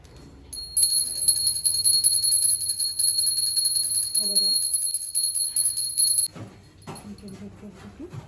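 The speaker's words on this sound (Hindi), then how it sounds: "घंटी बजा दो" A small prayer bell rings continuously in a bright, sustained tinkle for several seconds, with a voice and soft background sounds around it.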